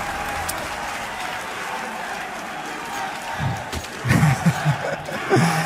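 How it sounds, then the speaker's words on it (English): An esports arena crowd at a Counter-Strike match on Mirage at DreamHack Austin swells from a steady murmur into cheering and clapping bursts near the end, loud and broad. "This crowd is just, you can tell they've wanted to cheer for the entire first half"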